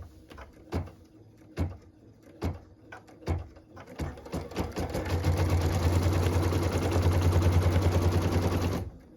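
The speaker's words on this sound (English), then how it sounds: "then we can go ahead and stitch the very first tack down line" A sewing machine stitches a tack-down line through fabric and batting, first in several separate short bursts, then running steadily and loudly for about four seconds before stopping abruptly.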